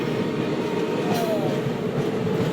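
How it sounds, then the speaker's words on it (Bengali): A diesel passenger train runs alongside near Guwahati, a steady loud rumble and rolling wheel noise with a brief faint squeal partway through. "প্যাসেঞ্জার ট্রেন কোনো একটা।"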